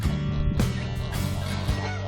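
Young chicks, goslings and ducklings housed together call in a dense, continuous chorus of overlapping peeps and honking cheeps, close and fairly loud with no pauses.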